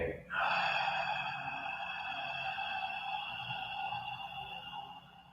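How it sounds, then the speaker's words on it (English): A deep breath drawn in and then a long, full exhale during a live flow movement practice, a sharp breathy rush followed by a sustained airy outflow, close and fairly loud, with no talking over it. "Take a deep breath in. And fully exhale everything."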